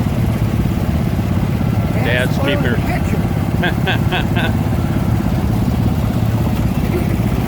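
A small John Deere lawn tractor ridden by a young girl rumbles past at an antique tractor show parade, a steady low engine drone throughout beneath a loud announcer and brief chatter.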